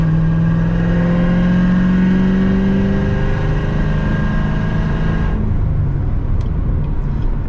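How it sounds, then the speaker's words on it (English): A full bolt-on, E85-tuned C7 Corvette pulls hard onto a freeway, its engine note climbing loudly in pitch before cutting off abruptly near the end, heard from inside the car. "Let's have a little bit of a pull as we enter onto the freeway."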